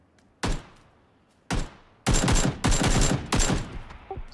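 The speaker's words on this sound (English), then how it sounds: "Suppressive fire" Suppressive gunfire in PUBG: two single loud shots followed by sustained automatic bursts, sharp and close with short gaps and echoing tails, no talk over it.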